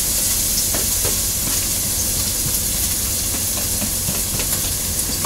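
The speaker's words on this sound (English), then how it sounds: "You see, we are sauteing our onions and our garlic." Sofrito of onions and garlic sautéing in a pot on an RV stove, giving a steady, dense hiss and crackle of frying with scattered pops, continuous and fairly close, no talking.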